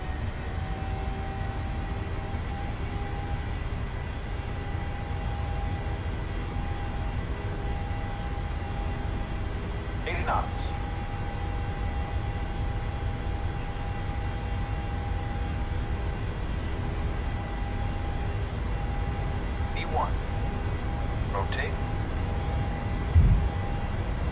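Airliner engines spool up to takeoff thrust in Microsoft Flight Simulator, giving a steady, loud broadband roar with a low rumble that holds constant, along with a few faint tonal chirps.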